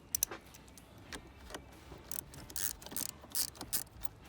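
A 10mm socket ratchet loosens a battery terminal on a Jeep Wrangler JL, giving quick, close clicking and metallic ticking in irregular bursts, quiet overall, with no one speaking.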